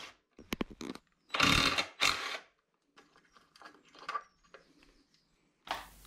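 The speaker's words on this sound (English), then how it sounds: "I'm going to use my trusty old impact driver" An impact driver with an Allen key attachment removes the rear brake caliper bolts on a mountain bike, giving several short, loud mechanical bursts separated by quieter handling clatter.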